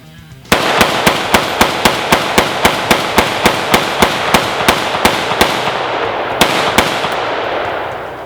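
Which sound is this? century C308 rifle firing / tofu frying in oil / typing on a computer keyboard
century C308 rifle firing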